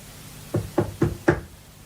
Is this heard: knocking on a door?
yes